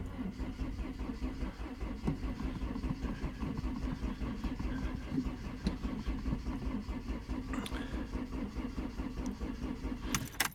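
A 1984 Ford Escort 1.6 CVH cabriolet engine on a cold start, running with a steady, rough mid-pitched rumble that stays close and even throughout.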